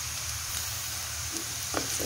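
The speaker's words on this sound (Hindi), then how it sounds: "इसके अंदर ये ज़ीरा ऐड कर देना है, 1/2 टीस्पून ज़ीरा ऐड कर देना है, और इसको थोड़ा सा जो है भूनना है" Cumin seeds roast in hot oil for a chicken and turnip curry, giving a steady close sizzle and crackle with a few faint stirring clicks near the end.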